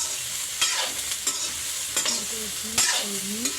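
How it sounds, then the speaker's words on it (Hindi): Chopped vegetables and tomato frying in a wok with steady sizzling, while a spatula scrapes and stirs in several distinct strokes close by. "मैं सब्जी को भूंजत हूँ। अब इसी पर टमाटर के जो कटा भी है"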